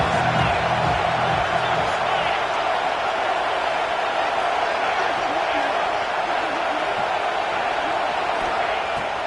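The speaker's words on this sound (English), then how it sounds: "This crowd rising up, sensing that its defense needs some help." A football stadium crowd roars continuously, a dense wash of cheering noise sustained throughout as fans rise up to support their defense.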